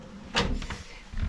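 A small cupboard door in a hotel room swings open with a brief, close creak and soft knock, followed by a faint second clunk in a quiet room.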